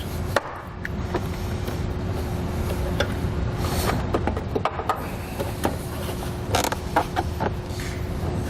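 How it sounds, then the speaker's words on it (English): A trim panel tool pries push-pin fasteners from an interior panel of a 2018 Volkswagen, giving close creaks, scattered sharp plastic clicks and pops over a low steady hum. "Take a trim panel tool, remove these two pushman fasteners."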